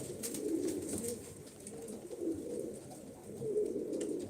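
Pigeons coo softly in repeated low, throaty phrases, a few birds close by with quiet background noise.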